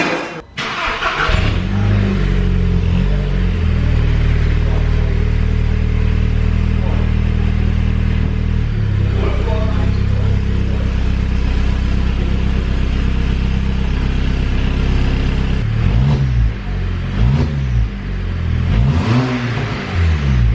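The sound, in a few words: VW Golf GTI engine with decat downpipe exhaust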